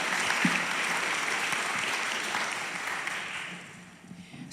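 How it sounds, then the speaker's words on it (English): Audience at a school board meeting applauding participating high school students, a dense, steady clatter of clapping from a room full of people that tapers off toward the end. "So a round of applause for all of the students who participated from the high school as well."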